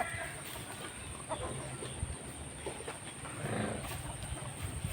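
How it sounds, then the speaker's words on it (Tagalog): Two hens and a rooster cluck softly in a backyard coop, faint, scattered calls over steady outdoor background noise. "Dalawang inahin, isang tandang."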